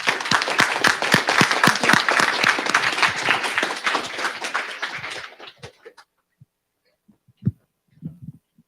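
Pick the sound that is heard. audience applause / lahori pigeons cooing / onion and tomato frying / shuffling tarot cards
audience applause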